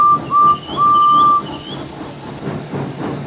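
A steam locomotive's whistle gives two loud, sustained blasts as it arrives, the second longer, then fades into a low chuffing rumble.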